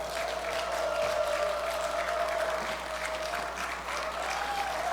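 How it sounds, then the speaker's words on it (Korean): Sustained applause from a large church gathering of around 2,300 people welcoming a pastor at a mission assembly, a dense steady roar of clapping with a faint held tone underneath. "목사님 나오실 때 2300명문의 박수로 크게 환영해 주시면 감사하겠습니다."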